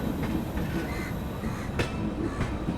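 A passenger train on the Poorvottar Sampark Kranti route pulls away from a station, a steady near rumble with rhythmic wheel clatter and a brief squeal of metal, with no talking.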